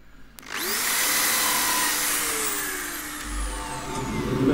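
Power sander running on eucalypt burl at 180 grit, a steady loud whirring whine that starts abruptly and holds for several seconds with slight shifts in pitch as pressure changes.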